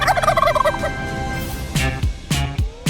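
A turkey gobbles loudly and close, with a rapid warbling burst followed by several sharp, separate gobbles and clucks.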